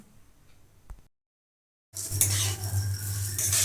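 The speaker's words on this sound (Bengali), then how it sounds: "চালটাকে আমি একটু ভেজে নেব" Rice frying in a pan for a colourful hotel-style pulao with slit green chillies, a steady loud sizzle with scraping after a brief silence, following faint kitchen clatter.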